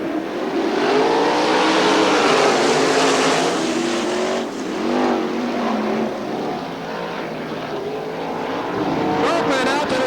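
Loud 410 sprint car engines roar and rise in pitch together as a pack accelerates at the start of a race at Crystal Motor Speedway, Michigan, with a commentator's voice running over the din.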